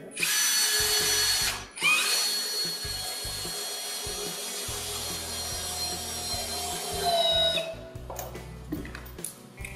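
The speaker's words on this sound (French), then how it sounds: "on les visse de la même manière" A power drill drives screws into the wooden panels of a flat-roof Tendille garden shed. It gives repeated loud whirring bursts with short pauses and stop-start trigger pulses, close and with no talk.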